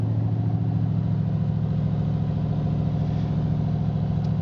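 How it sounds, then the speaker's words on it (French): A 1964 Chevrolet Corvette C2 with side exhausts idles steadily, giving a loud, close, deep even rumble throughout. "cette Corvette a un bruit plus joli que les autres, enfin que les autres C2, c'est aussi ses échappements sur les côtés"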